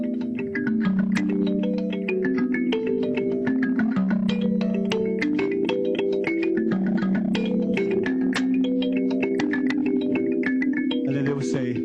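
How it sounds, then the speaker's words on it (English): A thumb piano plays a continuous, melodic run of plucked, ringing tones with a steady rhythm, close and fairly loud, with no talking over it. "Thumb piano."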